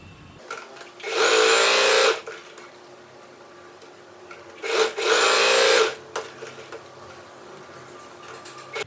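Two loud, close bursts of a sewing machine running straight lines of stitching across fabric for a roti basket, each about a second long, separated by quiet pauses.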